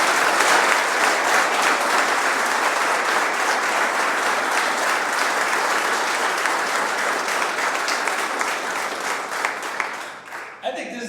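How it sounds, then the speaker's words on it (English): An audience claps for a former Hammond mayor at a key-to-the-city ceremony, with dense, sustained applause that holds steady for about ten seconds before tapering off. "give him a big round of applause"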